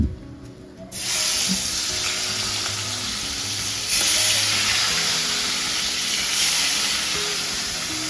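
Fish tail and head pieces go into hot oil other than mustard oil. A loud, steady hiss of frying bursts in after a brief quiet start and continues close and unbroken.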